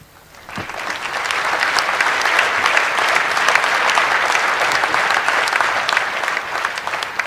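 Loud applause at the INS Vikrant commissioning ceremony for the Indian Navy swells in after a brief quiet start and holds as a thick, sustained roar of many hands.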